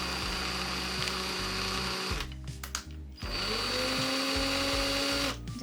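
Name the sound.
drill drilling a hole into a UV resin charm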